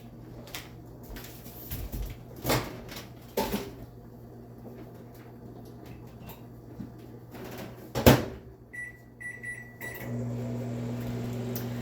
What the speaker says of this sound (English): So let me put these in the microwave.